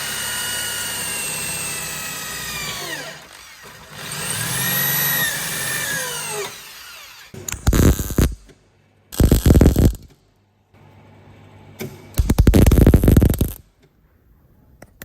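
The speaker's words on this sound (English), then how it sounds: "I'm just going to smooth off those spot welds." A power tool grinds down spot welds on car brackets during a K20 engine swap in a Honda Jazz Fit GD, beginning with a falling whine, then three loud, harsh bursts separated by short pauses.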